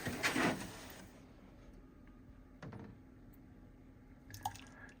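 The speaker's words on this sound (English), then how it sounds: "I'm just going to add some milk" Milk poured into a freshly made espresso for a latte at home, a brief splashing pour at the start, followed by a few faint clinks and small handling noises in a quiet room.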